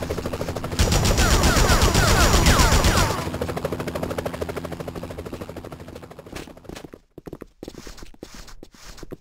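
Gunfire in the Spider-Man video game: a loud, dense burst of rapid automatic shots that thins into scattered sharp cracks and clatter, close and continuous under game noise.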